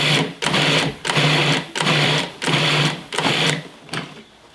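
Shredded cheese ground into cheese cracker dough in a processor, the motor whirring in about six loud, evenly spaced pulses with short pauses between them.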